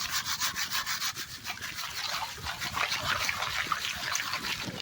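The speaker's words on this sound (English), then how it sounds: "So we want all the sand and stuff to fall through." Sand and gravel being shaken through a prospecting screen while searching for glacial gold in Wisconsin: a steady, loud, close rasping hiss of grit sliding and rattling across mesh, continuous with a slight rhythmic shuffle.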